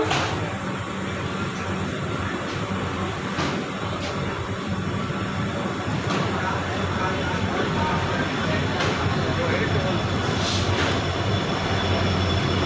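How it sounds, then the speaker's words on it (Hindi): A train pulls out of Bareilly Junction station, with a loud continuous rumble and rattle of wheels and carriages, broken by faint periodic clicks and a brief higher squeal near the end. "ये देख लेते हैं बरेली जंक्शन से हमारी ट्रेन का डिपार्चर।"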